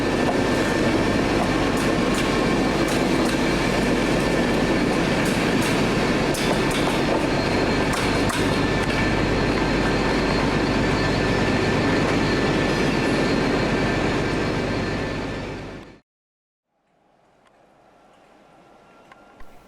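An LNER train passes in London with a loud, sustained rumble, rhythmic wheel clatter and some squeal, close by, before cutting off abruptly to faint background noise.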